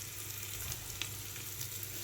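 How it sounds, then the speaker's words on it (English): Chopped onions fry in a pan as part of a pork-joint meal, a soft, steady sizzle heard up close with a few faint ticks and stirring scrapes and no talking. "The onion, we will cook it for more than 5 minutes."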